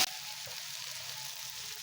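Taro stolons (kochur loti) sizzle steadily in hot spiced oil in a pan, a constant close frying hiss with no voice.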